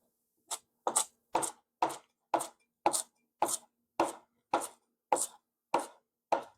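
Garlic minced with a knife on a cutting board, about a dozen crisp, evenly spaced chops ringing out close and clear with no voices.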